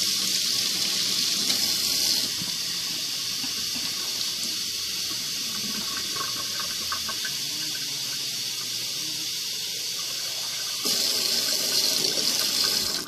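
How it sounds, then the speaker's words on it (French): Hot water runs from a tap into an empty spray bottle, a steady hissing splash that carries on throughout, growing a little louder near the end. "une bouteille vide à spray que vous remplissez d'eau chaude"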